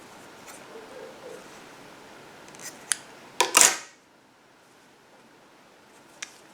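Scissors trimming the buried end of crochet yarn on a dog bone purse, a few faint snips followed by one loud crisp cut, then near silence with a last light tick.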